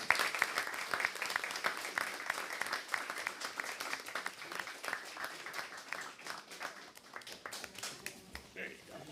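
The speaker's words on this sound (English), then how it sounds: "Let us all applaud Roseanne Rinaldi" Applause at a board of education meeting: a room of people clapping steadily for about nine seconds, dense and fairly close, gradually thinning toward the end with scattered claps and faint voices underneath.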